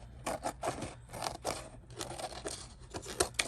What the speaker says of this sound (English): you're just going to take your scissors and you're going to go around the outside of that wood